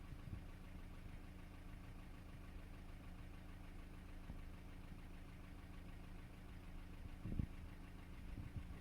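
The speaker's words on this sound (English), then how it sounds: "The vehicle is running." A Ford Transit with a 2.4 TDCi diesel engine idles steadily, giving a low, even rumble with faint knocking and a couple of brief clunks near the end.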